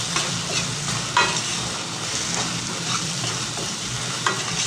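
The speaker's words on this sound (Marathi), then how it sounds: "मिरची पण तिखटपणा जाईपर्यंत परतायची, म्हणजे कच्चा वास जाईपर्यंत मिरची परतायची।" Green chilli and garlic paste sautés in a hot pan, giving a dense, even sizzle with occasional soft scrapes as it is stirred, close and steady.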